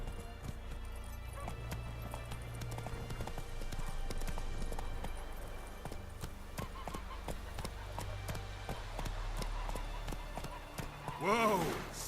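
Hooves of the horse Roach clip-clop in The Witcher 3, a steady galloping rhythm running through the whole stretch, with a voice speaking over it and a louder burst near the end.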